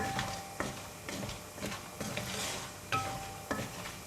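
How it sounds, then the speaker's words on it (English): Pork lard fries in a pan with a continuous close sizzle, broken by repeated scraping stirs and utensil knocks against the pan. "I will continue to fry pork lard for 20 to 30 seconds to get a nice even golden brown color on the pork lard"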